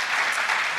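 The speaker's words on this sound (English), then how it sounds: "let's give a round of applause to Andrew." Audience applause at the end of a talk on building a financial foundation: a dense, steady wash of clapping from the room, heard alone.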